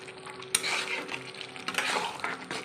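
Potol chingri curry with a pinch of meat masala being stirred and fried in a pan, with a sharp spatula clank at the start, then continuous sizzling and scraping strokes, close and clear with no talk.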